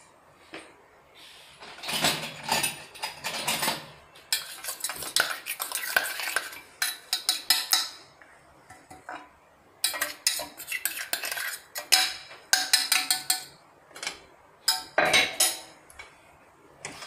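Coarse coconut powder is tipped into a kadhai and stirred, with repeated clinks and scrapes of a metal spoon against the pan coming in bursts, close up and without talk, while making coconut laddoos with the gas flame off.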